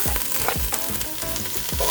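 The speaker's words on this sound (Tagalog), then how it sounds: "igisa natin itong sibuyas at bawang" Fresh garlic and onion sautéing in hot oil for Filipino kare-kare, a loud close sizzle with repeated scraping stirs and spatula knocks against the pan.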